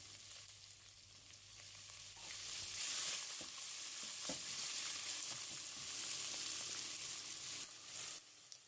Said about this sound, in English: Now I'm going to add onion with green chili. Cook onion about 3 or 4 minutes.